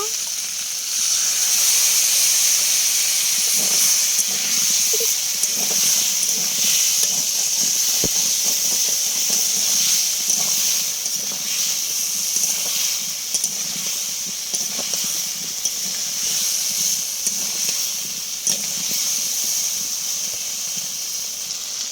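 A splash of water hits spice masala frying with small garden potatoes in a pan, raising a loud, continuous steamy hiss and sizzle that runs close and unbroken throughout.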